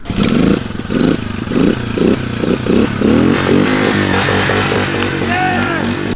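A loud, close Honda CBR motorcycle trike engine revs in choppy pulses, then settles into a steady rumbling roar with rising pitch.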